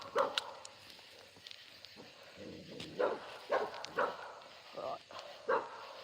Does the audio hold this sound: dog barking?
yes